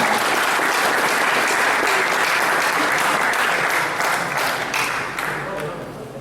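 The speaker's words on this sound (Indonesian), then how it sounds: "Tepuk tangan dulu buat kedua narasumber kita." An audience applauds two speakers at a seminar on judges and legal aid institutions, dense steady clapping filling the room and slowly tapering off near the end.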